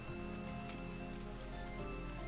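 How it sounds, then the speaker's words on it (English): Light rain falls steadily in the survival game Vintage Story, a soft continuous patter under quiet tonal background music. "And it's lightly raining."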